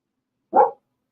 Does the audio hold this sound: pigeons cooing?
no